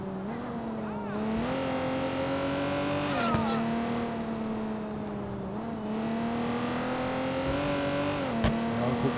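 A sports car in Watch Dogs 2 accelerates hard with turbo boost, its steady engine drone rising and falling through gear shifts, with a sharp transient near the end; the engine sits loud and continuous, with a voice talking over it.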